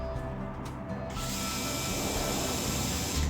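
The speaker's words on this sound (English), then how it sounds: "get my drill, and I just put in one hole" A power drill bores a hole into a wooden drawer, giving a steady close whir that rises in pitch partway through and runs without pause.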